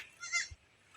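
Male goats on a farm, with one short, thin, nasal bleat close by and a second starting at the end, over faint background noise.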